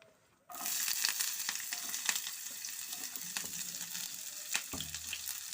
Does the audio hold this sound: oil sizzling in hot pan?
yes